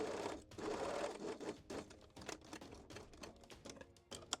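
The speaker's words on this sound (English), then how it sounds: "So I will sew a few centimeters right here." A sewing machine stitches a few centimeters of a fabric side seam for a bikini top in quick mechanical bursts of rapid clicking, close and fairly quiet, with brief pauses and no talk.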